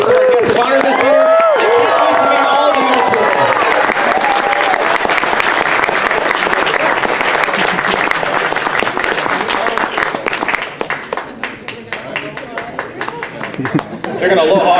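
Audience applause at the opening ceremonies of the WCPC 2023 event, guests of honor leaving the stage, sustained loud clapping and cheering throughout with background music and a voice faintly over it, thinning toward the end.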